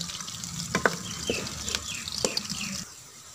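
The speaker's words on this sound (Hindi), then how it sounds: "प्याज हमने ब्राउन कर लिया माशाल्लाह" Onions browning in a pan for a dal with chana and fresh pumpkin, a steady soft sizzle with a few scrapes of stirring, close by and alone.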